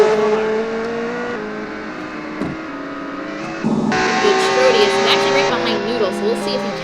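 A race car engine drones and revs at a motor park in a GT race, its tonal whine shifting pitch as it accelerates and backs off, heard under steady commentary-style talk throughout.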